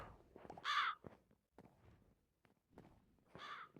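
A bird of prey calls in a zombie survival video game, two harsh cawing cries a few seconds apart, close and loud, with faint footstep-like taps between them.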